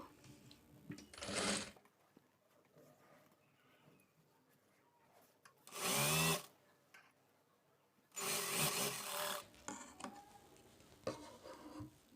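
A sewing machine stitches a half-inch fold on a katori blouse in short separate bursts of whirring, with quiet gaps of handling fabric between runs, close by and fairly loud during each burst.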